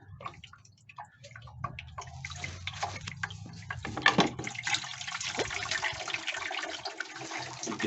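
Dark liquid drains from a six-year-old car battery in a steady, close trickle and splash, with a few ticking drips, and no voices.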